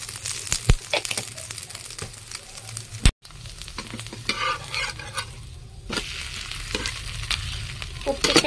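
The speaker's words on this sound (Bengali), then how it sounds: "প্রত্যেকটাকে আমি এরকম করে ভেজে নেবো।" Paratha fries in oil in a pan with a steady close sizzle. Scraping and stirring noises come and go over it, with one brief gap near the middle.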